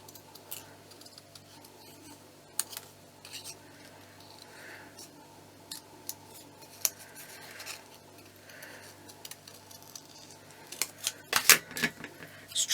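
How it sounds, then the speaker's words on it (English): Scissors snipping a small paper image of a winged figure, trimming down the wings for a mini ephemera papercraft piece; light, scattered cuts that are quiet at first and then crisper near the end, with no talking. "I think we could just trim her wings a bit."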